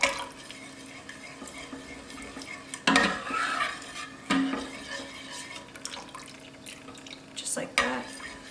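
Heavy cream being stirred into tomato soup in a pot, with a few clinking scrapes of a utensil against the pot and liquid sloshing at moderate level, interspersed with faint background kitchen noise.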